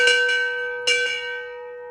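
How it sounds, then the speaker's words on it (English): The NZX stock exchange bell is struck twice, each clear metallic ring with bright overtones decaying slowly, close and loud with no talk. "I think we should go and ring that bell, should we?"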